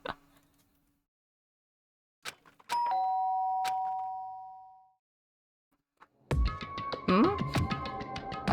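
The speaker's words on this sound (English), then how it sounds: "did I hear the doorbell?" A doorbell chimes twice in the Danganronpa video game, each ring a bright ding with a sustained tone that slowly decays, followed by a busier burst of ringing chime notes near the end.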